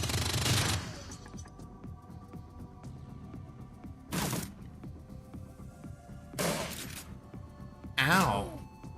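Shotgun blasts in the cyberpunk tactics game Shadowrun Dragonfall: four sharp, loud booms spaced a couple of seconds apart, each with a short ringing tail, over a quiet background.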